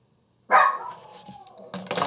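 A dog barks once sharply nearby, followed by a trailing whine and another short bark, fairly faint in a quiet room.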